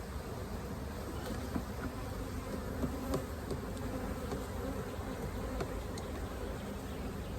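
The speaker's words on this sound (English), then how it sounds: "These bees they've just congregated out here" Honey bees drone continuously in a thick, even buzz, with faint clicks and taps scattered over the swarm's hum.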